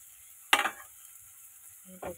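Onions fry in a pan until dark for a fish dish, giving a steady sizzling hiss that is broken by two short stirring scrapes.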